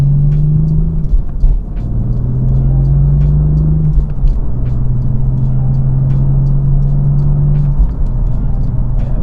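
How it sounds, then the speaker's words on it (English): Cabin sound of a BMW F82 M4 Competition coupe with a manual gearbox, a loud engine drone with several pitch steps as it downshifts with automatic rev matching, over steady road rumble. "See, look at that, downshift, and it also has the auto rev matching"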